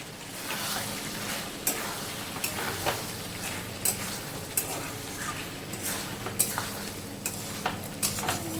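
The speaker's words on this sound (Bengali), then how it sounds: "সব কিছুকে ভালোভাবে মিশিয়ে নেব।" Deshi chicken curry with black pepper being stirred in a pot as the meat reduces and dries, a steady sizzle under repeated scraping strokes with a few sharper clinks of the spoon against the metal, fairly close, with no talking.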